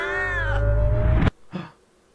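Mr. Meowgi, a cat character in the zombie game Three Dead Zed, gives one long drawn-out meow that bends in pitch and cuts off abruptly, followed by a short softer chirp.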